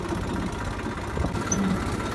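A tractor engine runs steadily at close range, a continuous low, vibrating rumble with a slight knocking pulse while riding on the tractor along a narrow lane toward a farm.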